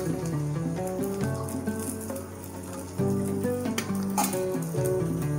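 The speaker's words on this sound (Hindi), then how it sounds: "इसमें साइटों से डालना है इसके अंदर तेल।" Oil sizzles and crackles loudly as it is poured around a paste in a hot pan, a steady frying hiss that swells in bursts, with no voices.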